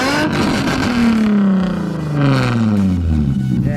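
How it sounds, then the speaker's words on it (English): A Nissan Z revs its loud exhaust outdoors, close and throaty, with two rising then falling engine sweeps in quick succession and no voices. "we're gonna get some clips of the exhaust out here."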